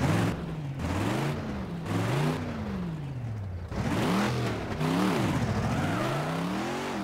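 A loud, deep lifted-truck engine in a video game roars and revs repeatedly, pitch sweeping up and down in surges, close and continuous with no talking.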